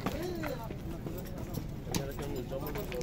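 A horse at the Bishkek horse market in January clip-clops on hard ground in an uneven rhythm, the hoofbeats mixed under continuous nearby talking.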